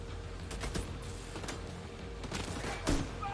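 An enemy turret fires in The Division 2 video game, a steady rattle of rapid shots heard at moderate distance throughout, with a slightly heavier burst near the end.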